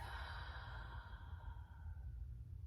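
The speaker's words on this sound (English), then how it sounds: "Inhaling, let's exhale out the mouth" A person exhaling slowly through the mouth during pranayama breathing practice: one long, soft, airy breath sustained for a couple of seconds, close and quiet, with no talk.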